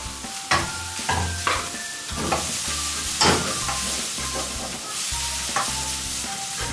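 Spring onions and leeks stir-fried in a pan while cooking samosa filling: a steady, close sizzle with repeated scraping stir strokes in an uneven rhythm, no talking.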